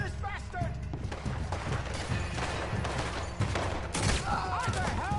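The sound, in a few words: gunfire in the video game Red Dead Redemption 2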